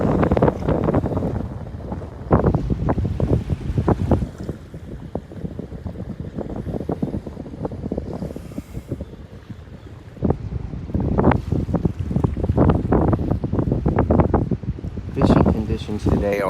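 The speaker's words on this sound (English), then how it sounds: "this wind is blowing" Strong southwest wind buffets the microphone outdoors, with gusty rumbling surges rising and falling under a person talking throughout.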